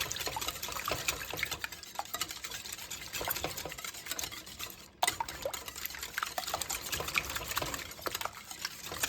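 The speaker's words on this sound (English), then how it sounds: "We're going to whisk this together. Get all those yolks broke up." Eggs being whisked in a bowl, a continuous fast wet clatter of the whisk against the sides with rapid rhythmic ticks, close and steady with a brief pause midway.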